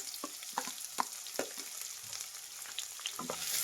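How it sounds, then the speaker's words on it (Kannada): Sliced onions fry in hot oil with curry leaves for egg rice, a soft continuous sizzle with scattered crackles and stirring scrapes, close but quiet, no voices. "ಈರುಳ್ಳಿನ ಸ್ವಲ್ಪ ಫ್ರೈ ಮಾಡೋಣ"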